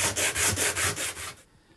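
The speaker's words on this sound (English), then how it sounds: "Drawer sides that are rubbing can often be improved by sanding them with a 60 grit sandpaper" Drawer sides rubbed with 60 grit sandpaper wrapped around a wooden block, heard as six steady back-and-forth scraping strokes, close and fairly loud, with no voices, then a short quiet pause.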